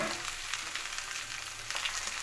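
Cut okra pieces, washed and wiped dry, frying in a pan, giving a steady close hissing sizzle with faint crackles throughout and no talk.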